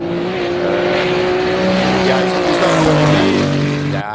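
A race car at the Simola hill climb roars close and loud as it accelerates on its run, the engine note climbing and shifting through gears continuously before cutting off abruptly at the end.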